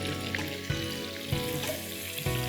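Ginger, garlic and sliced onions frying in a pan, a steady close sizzle with soft stirring knocks and scrapes recurring every second or so, no voices.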